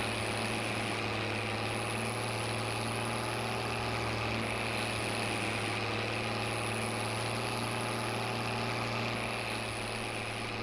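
A tractor engine with an open operator station running steadily, a loud continuous droning hum with a strong low tone and no change in pace, with no voices.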